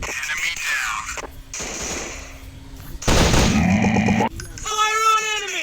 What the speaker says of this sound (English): I'm shooting these fools up! Fire on enemy!